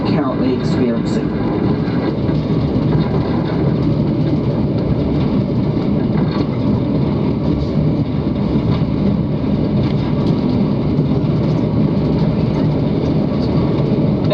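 The Overlander passenger train climbs the Raurimu Spiral railway, a steady, continuous rumble of engine and rolling wheels heard from on board, dense and unbroken throughout with no clear individual clanks.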